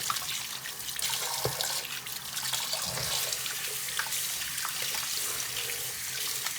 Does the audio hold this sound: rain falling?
no